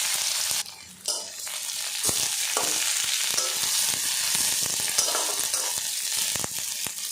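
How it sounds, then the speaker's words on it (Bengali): Chopped onion fries in hot oil with whole garam masala in a home kitchen, a steady crackling sizzle broken by the scrape and clink of stirring, close and continuous throughout. "পেঁয়াজটা দেখুন লাল লাল করে ভেজে নিয়েছি"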